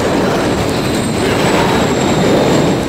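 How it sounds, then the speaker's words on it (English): A train thunders past at close range in Call of Duty: Modern Warfare III, a loud, unbroken rumble of rolling wagons with a faint high metallic whine over it. "Another train coming."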